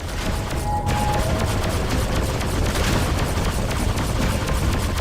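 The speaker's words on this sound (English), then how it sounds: "We're taking heavy fire from its turrets." Space combat in the Freelancer video game: a dense, continuous barrage of turret gunfire and heavy booming explosions, loud and unbroken throughout.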